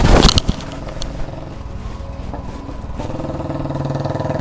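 A Royal Enfield Bullet motorcycle rumbles close by, a steady low thumping engine drone that stays loud, firming up with a brief rev partway through and continuing evenly to the end.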